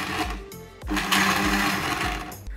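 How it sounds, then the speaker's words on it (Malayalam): A mixer grinder blends wheatgrass juice in steady whirring bursts with a rhythmic, chugging motor pulse, close and moderately loud throughout, and no talking. "മിക്സിയിൽ അധികം അടിക്കാനും പാടില്ല"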